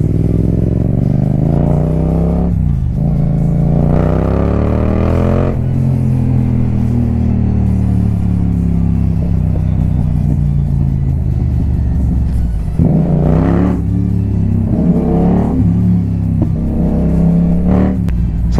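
A Yamaha motorcycle engine revs loudly and continuously up close, its rumbling note climbing and dropping through repeated throttle blips and sustained roars with no pauses.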